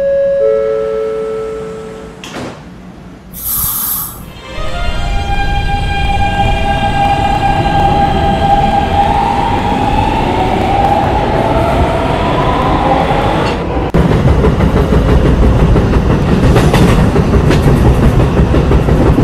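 A Roblox subway D train in a video game: door chimes and a brief tone, then the train pulls away with a rising motor whine and steady clattering over the rails, loud and continuous.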